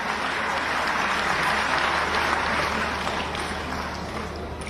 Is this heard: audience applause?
yes